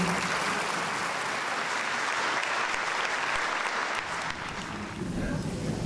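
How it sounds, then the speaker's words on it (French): Audience applause at a crystal hippopotamus award presentation, a strong, sustained round of clapping from a crowd that dips briefly near the end before swelling again. "On l'applaudit."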